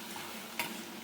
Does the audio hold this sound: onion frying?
yes